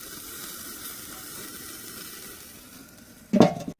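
Steaks sizzle over a hot grill fire in a steady, close crackling hiss, ending with a brief louder clatter near the end.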